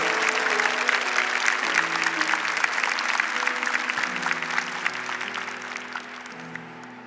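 A congregation applauds at a Catholic charismatic gathering, a full sustained clapping that slowly tapers, while sustained musical tones play softly underneath.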